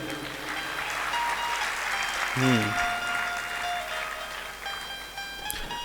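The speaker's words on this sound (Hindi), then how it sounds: "बहुत जोर से आपने ताली बजा दी है" Sustained applause from a large crowd fills the room, steady and fairly loud, with a voice and brief tonal sounds breaking through midway.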